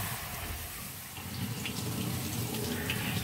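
Tap water running steadily over freshly dyed deep violet fiber during a rinse-out in a sink, a close, continuous hissing splash that stays even throughout.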